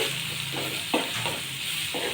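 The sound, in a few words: chili and turmeric frying in tempering oil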